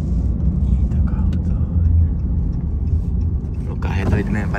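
A tuned Ford car engine rumbles and revs up close, a loud continuous low drone with a voice talking over it toward the end.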